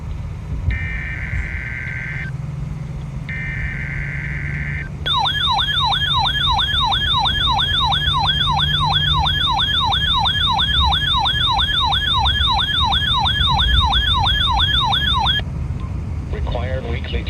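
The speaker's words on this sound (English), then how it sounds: "The preceding signal was a test of the NOAA radio public warning system." NOAA weather radio public warning system weekly test signal: two short steady electronic tone bursts, then a loud, continuous, rapidly warbling alert tone lasting about ten seconds before cutting off.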